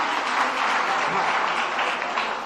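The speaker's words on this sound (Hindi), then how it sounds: "जोरदार तालियां।" An audience at a Hindi religious gathering and auction claps steadily in a dense, sustained burst of applause that fills the whole stretch at moderate loudness.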